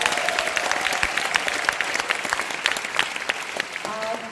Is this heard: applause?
yes